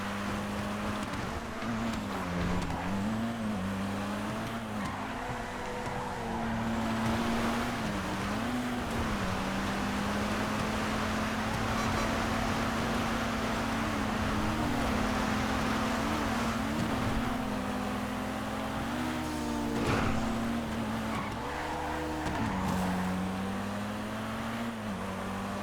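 A racing car engine in the GTA FiveM driving game, a loud steady drone that rises and falls with the throttle and gear changes, running without pause for the whole stretch with no talking.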